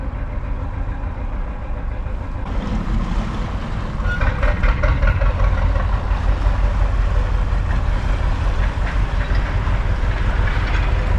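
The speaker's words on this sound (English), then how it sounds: "I do love the sound of these old engines." An old canal narrowboat engine chugs near the junction with the Stratford-on-Avon Canal on the Birmingham Main Line Canal on a chilly day. A steady, loud, low rumble pulses rhythmically throughout, with no voices.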